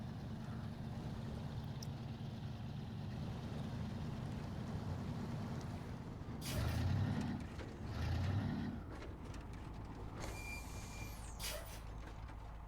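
A heavy truck rumbles along in the SnowRunner video game, a low steady engine drone with brief louder surges, a hissing air-brake-like burst and reversing-beep tones mixed in, no talking.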